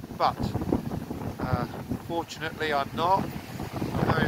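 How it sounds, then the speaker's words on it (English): Gusty wind buffets the microphone outdoors at Betshanger Country Park, a continuous rumbling roar under someone talking throughout. "It's a bit windy out here"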